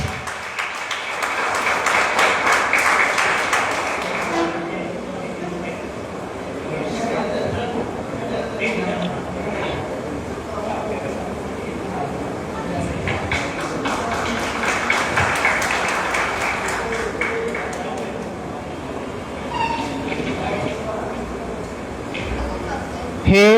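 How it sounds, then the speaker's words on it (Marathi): An audience at a cycling campaign ceremony claps in two sustained rounds of applause, one near the start and another in the middle, with talk running beneath and between them. "टाळ्या होऊन जाऊ दे जरा."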